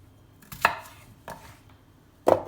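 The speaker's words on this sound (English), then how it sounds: "we're just going to roughly chop these potatoes" A knife roughly chops potatoes on a board, three distinct close thuds spaced irregularly over a couple of seconds.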